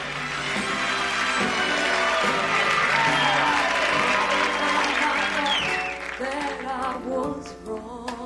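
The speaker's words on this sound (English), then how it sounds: "I'm going to play a couple of minutes of it from the beginning with the applause." Steady, dense applause from a large crowd on a played telethon recording, swelling and holding for several seconds before music and singing rise through it as the clapping thins out.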